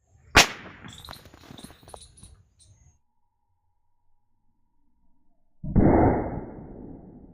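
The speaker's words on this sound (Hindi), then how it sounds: "एक बीड़ी बम से इस ताले को कुछ भी नहीं हुआ है" A bidi bomb firecracker set off against a padlock: one sharp, loud crack right at the start followed by a brief, fading crackle and scatter, then near silence and a later burst of rushing noise.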